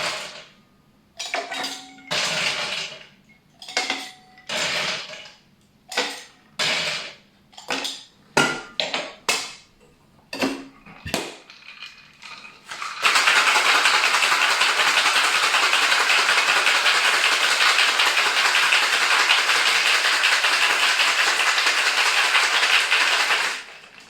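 A cocktail shaker full of ice makes a run of sharp rattling bursts in uneven rhythm, then a loud continuous rattle of fast shaking, close and alone.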